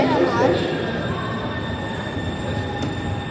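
A driverless metro train in Copenhagen, with no cab at either end, pulls in with a steady rolling rumble and faint high squeal of wheels on rail, close by, while a voice speaks briefly at the start.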